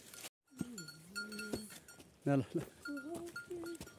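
Goats being herded through forest bleat with wavering cries amid the clink of livestock bells, while a person calls out short herding sounds between the bleats.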